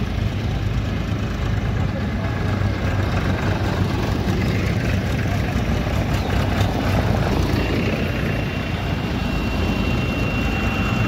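Many tractors, including Kubotas, roll in a farmers' protest convoy from Chidi village toward Titoli, making a continuous loud, dense diesel engine drone with voices faintly mixed in.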